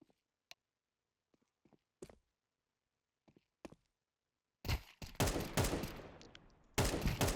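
Gunfire in the video game Counter-Strike 2: a few isolated sharp shots and quiet footsteps, then two loud sustained bursts of rapid automatic fire close up.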